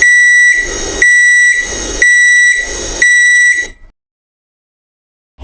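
A custom alarm sound played loudly for iPhone sound recognition, four harsh buzzing beeps in a steady one-per-second rhythm, then silence.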